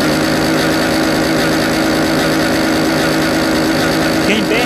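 A modified Honda Titan 160 motorcycle with a sport exhaust idles with a loud, steady, close engine drone that holds throughout, unbroken by any talk.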